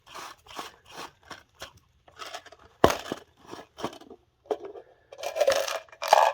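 The black ring of a gold classifier jar being unscrewed: a run of close, short plastic clicks and ratcheting scrapes, then a louder knock and rougher grinding rustles near the end.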